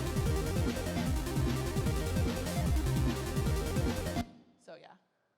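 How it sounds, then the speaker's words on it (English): Full chiptune mix from Famitracker with a pulse-width-modulated bass and two-channel echo, playing a dense, driving pattern for about four seconds before it stops. A short bit of speech follows. "and so in the full mix, that bass sounds like this."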